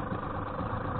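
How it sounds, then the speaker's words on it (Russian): Mikatsu M4FHS 4 hp two-stroke outboard motor running just after starting, a steady, even close-up drone at idle with no voices. "идет, движок завел."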